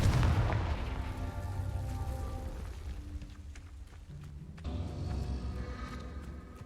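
A Confringo blasting spell explodes in the video game Hogwarts Legacy on hard mode: a heavy, loud boom at the start rolls into a sustained low rumble, then swells again with a second burst midway.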